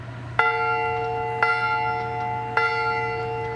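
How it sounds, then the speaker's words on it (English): A camp emergency bell rings three times at steady intervals, each strike bright and metallic with a long sustained ring that carries into the next, heard clearly against a low steady background hum. "Ringing of this bell signals an emergency to campers"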